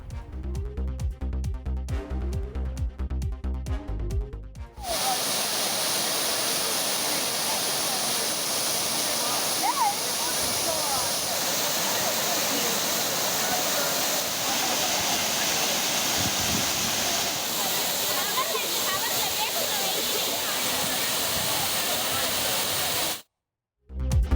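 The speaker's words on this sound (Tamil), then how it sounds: "தேனி மாவட்டம் கோம்பைத்தொழு வனப்பகுதிக்குள் அமைந்துள்ள சின்ன சுருளி அருவியில் தண்ணீர் ஆர்ப்பரித்து கொட்டுகிறது" Water roars down the Chinna Suruli waterfall in the Kombaithozhu forest of Theni district, a loud, steady rushing wash that fills the scene, ending in a brief cut to silence.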